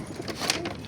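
Pigeons in a rooftop loft give soft, low cooing calls, a brief murmur of coos over a steady background.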